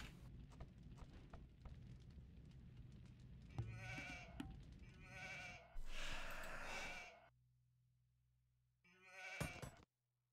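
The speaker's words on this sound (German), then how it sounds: "jetzt kommt er schon wieder mit so einem blöden Schaf" Sheep bleat in Age of Empires 2, several loud nasal calls arriving one after another over a low game background, with a final short bleat after a brief quiet gap.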